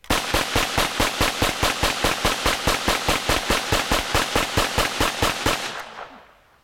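A GSG MP40 9mm submachine gun fires a full magazine at a range in one steady, rapid automatic burst of evenly spaced loud shots lasting about six seconds, then stops abruptly and the echo decays.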